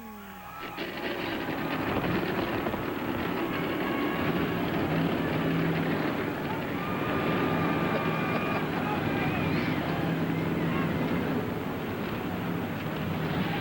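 A field of NASCAR race cars fires up at Phoenix, a dense, loud, sustained engine roar building within the first second and holding steady, with a commentator talking over it.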